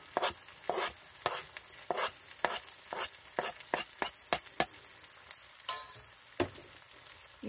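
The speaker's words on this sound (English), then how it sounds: "I'll put in the garlic." Garlic sautés in a pan with lemons, heard as a soft sizzle under a run of sharp, rhythmic spatula scrapes and taps close by.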